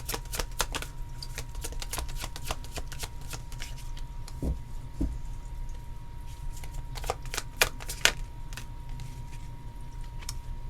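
Tarot cards shuffled in a long run of quick, crisp flicks and slaps, close and continuous over a low steady hum, with a couple of louder snaps near the end.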